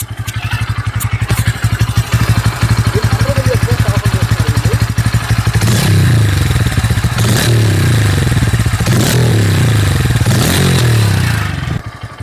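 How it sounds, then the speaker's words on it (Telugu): Close, loud exhaust note from a Bajaj Pulsar N150 motorcycle idling steadily, then revved repeatedly in several sharp rising and falling throttle bursts before cutting off. "ఒకసారి ఎగ్జాస్ట్ నోట్ మీకు వినిపిస్తాను."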